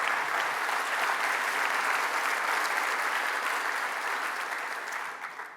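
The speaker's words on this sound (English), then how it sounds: "Let's give them a round of applause as thanks." At the opening of the Red Sky Summit 2025, a large audience gives sponsors a dense, even round of applause that holds steady and then fades slightly at the end.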